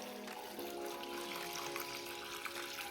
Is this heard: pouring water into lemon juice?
yes